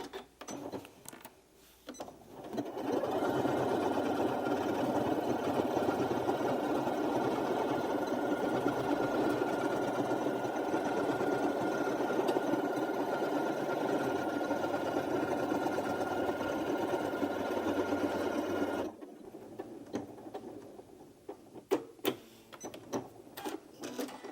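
A Janome Memory Craft 9480QCP sewing machine stitches out a test pattern as a steady, even mechanical whir that runs about fifteen seconds, then stops, followed by a few faint clicks and handling sounds.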